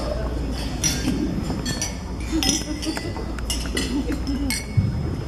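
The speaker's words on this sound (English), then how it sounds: "let's raise a glass to many more celebrations to come" Glasses clink repeatedly in scattered, bright chimes as guests toast at a wedding reception, with murmured chatter and a low room hum underneath.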